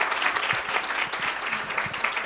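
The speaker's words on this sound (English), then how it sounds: "can we just have a round of applause for how fantastic our mentees are?" Audience applause at a conference presentation, a steady wash of clapping from a crowd throughout, dense and moderately loud with no break.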